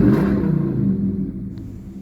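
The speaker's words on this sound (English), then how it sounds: "I can at least give you a couple of in-cab revs." Dodge Charger R/T engine giving a brief rev heard from inside the cab, a low rumbling swell that fades quickly over about two seconds.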